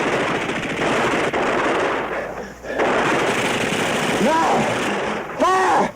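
Sustained automatic gunfire pours into a stand of trees during a wartime combat scene, loud and continuous with brief gaps, joined near the end by short shouted voices.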